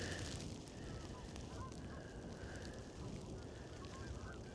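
A flock of geese honks in scattered overlapping calls outdoors near Rochester, faint and somewhat distant over a steady rush of wind or background noise.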